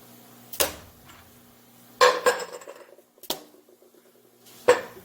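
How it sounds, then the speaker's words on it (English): A metal block is clamped in a milling vise and tapped down. A handful of sharp, close metallic clanks and taps come at uneven intervals, with quiet gaps between them and no voices. "Put it down, lock the vise, tap it down."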